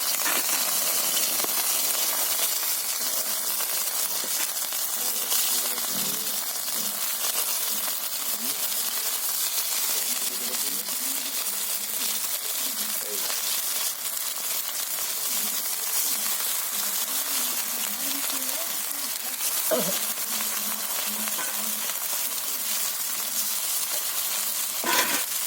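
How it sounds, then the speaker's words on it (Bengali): Whole fish frying in a pan of hot oil for a village-style fish curry, a continuous dense sizzle with faint crackles and occasional scraping clinks. "মাছগুলো আমি দিয়ে দিচ্ছি"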